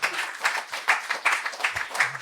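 Audience applause as a speaker is introduced: dense, steady clapping from a crowd filling the whole moment, moderately loud with slight surges and no voices over it.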